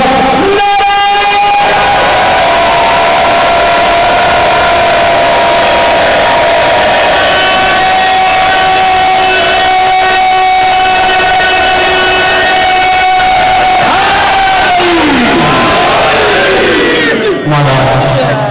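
A large crowd at a majlis shouts the slogan Naara-e-Haidar in unison, a loud sustained roar of massed voices that swells and holds over a long stretch before breaking off.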